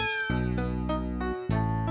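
Cats meow in a few clear, tonal cries, close and loud, with a faint jingle at the start and no talk.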